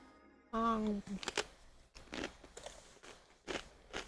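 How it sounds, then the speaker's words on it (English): Chips with dip crunched close to the mic in a quick series of sharp, uneven bites, after a short voiced hum at the start. "Got chips and dip, by the way. So you're gonna hear me crunching"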